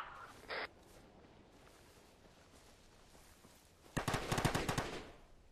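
A distant burst of machine gun fire in Arma Reforger, set in a Falklands battle, rattles out in a rapid string of shots after a long quiet stretch, with one brief sharp noise early on.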